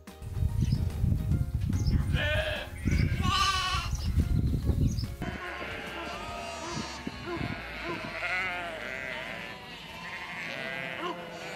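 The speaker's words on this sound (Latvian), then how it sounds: "Jēri ir aitas mazuli. Viņi sasaucas ar mammu blējot." Lambs and sheep bleat on a farm, several loud wavering calls close by at first, then softer overlapping bleats from a flock further off, with no voices.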